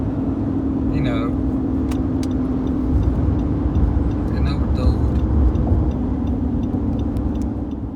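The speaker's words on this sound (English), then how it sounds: "what I was saying before I was so rudely interrupted by Jacksonville traffic" Road traffic in Jacksonville rumbles steadily nearby, with engines droning, a bus or car passing and a brief air-brake-like hiss, while a person talks over the noise throughout.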